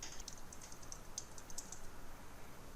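Fingers typing on a computer keyboard, a quick run of light, faint clicks at an uneven pace, alone with no voices.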